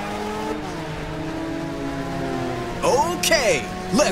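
Race car engines in the video game Ridge Racer 6 hum steadily, then rev in sharp rising and falling sweeps, loud and close, with an announcer speaking over them.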